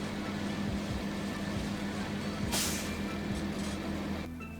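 A refrigeration unit on a reefer trailer in American Truck Simulator drones with a steady low mechanical hum, broken by a short burst of air hiss midway, then drops off abruptly near the end as the trailer is detached.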